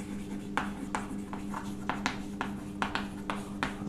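A pen writes by hand on paper during a physics lecture, producing steady scratchy strokes close by at a regular rhythm of roughly two per second over a low background hum.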